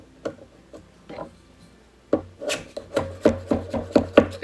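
Seating a cushion wad down into a trimmed 10 gauge shotgun hull for a 00000 buckshot load: a few sparse taps, then a quick run of about eight close, sharp knocks in steady rhythm, with no talking.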